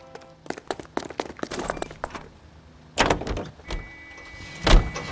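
Car door clunks and rustling handling as two detectives climb into a car in L.A. Noire, with sharp slams near the end at close range and a faint engine hum underneath.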